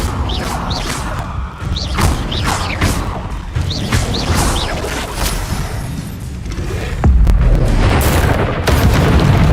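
An Incendio fire spell blast in Hogwarts Legacy, loud booming crashes and whooshes amid combat noise, with chirping effects early on and a heavier rumbling surge toward the end.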